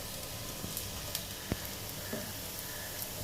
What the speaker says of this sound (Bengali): তেলে দেওয়ার পর ধনেপাতার বড়ার এক সাইডটা ভালোভাবে ফ্রাই হওয়ার জন্য কিছুক্ষণ ওয়েট করতে হবে।